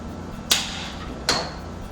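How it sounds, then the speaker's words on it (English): A flathead screwdriver prying off a car hood clip, giving two sharp, close plastic clicks spaced under a second apart against a quiet background. "You can either use a flathead, like one of these things, to pry up on it."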